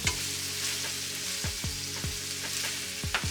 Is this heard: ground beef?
yes